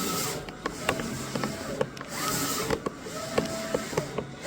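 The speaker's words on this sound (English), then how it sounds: "So it's just finishing up the print now." A Mimaki printer prints on a cup with a soft mechanical whir and a run of light ticks and clicks from the moving carriage, close by and steady, with no talk.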